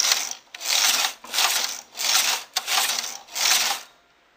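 A knitting machine carriage sweeps back and forth across the bed, making six rasping, whooshing passes in even rhythm with short pauses and clicks between rows, close and clear.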